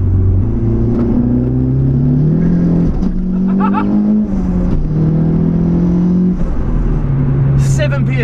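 A Renault Clio Turbo, front-wheel drive and running seven psi of boost, pulls hard with a loud, steady engine drone that climbs in pitch through the gears, heard from inside the car.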